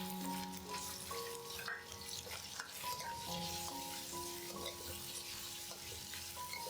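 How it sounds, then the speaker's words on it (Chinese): Shrimp stir-frying in a little oil in a wok over low heat, a steady sizzle with scraping and stirring clatter throughout, fairly quiet and without talk. "拿一点油， 虾仁放到锅里"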